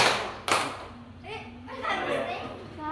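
A single sharp group handclap from students in an Islamic boarding-school classroom, followed by children's voices talking.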